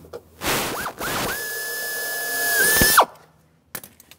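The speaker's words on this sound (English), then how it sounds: "We're going to go ahead and drill another hole." A power drill whirs up in two quick bursts, then runs steadily at high pitch for about two seconds while drilling a hole for a door bracket, before winding down, loud and close.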